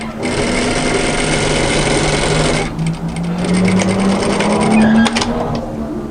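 Sewing machine running steadily while stitching down a seam on a relaxed kimono kaftan, a loud close whirring hum that briefly eases in pitch and then speeds up again.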